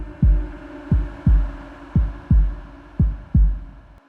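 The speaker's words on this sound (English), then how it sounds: "Her heart began to beat faster" A deep, muffled heartbeat thumps steadily in paired beats, about seven strong pulses over a few seconds, close and heavy against a faint hum with no talking.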